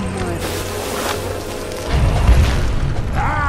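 A tower collapsing with a deep booming crash in Dota 2, a low rumbling impact rising midway over ongoing game sounds and a faint announcer-style voice.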